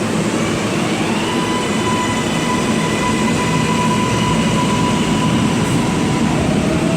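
An NYC Subway R-142 train passes with a steady, dense roar of wheels and motors plus faint high steel squeal, loud and continuous throughout, with no talk.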